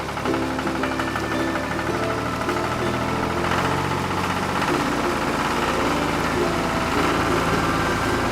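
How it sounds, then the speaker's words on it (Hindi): Engine of a cartoon tractor converted into an airplane drones steadily and loudly, with a continuous rumbling, knocking hum that runs unbroken throughout. "ट्रैक्टर एरोप्लेन में जा रहा है।"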